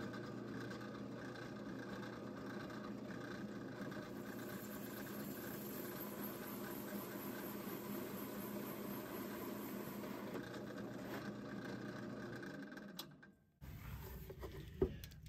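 A drill press cuts with a hole saw through material, making a steady grinding whir that holds constant and moderately loud for about thirteen seconds before cutting off sharply, followed by quieter mechanical noise.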